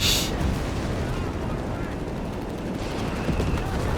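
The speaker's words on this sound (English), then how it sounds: "We got 30 cal laying down heavy fire" A .30 cal machine gun in the video game Company of Heroes 3 lays down a dense, continuous stream of gunfire with booming battle noise beneath it, loud and unbroken throughout.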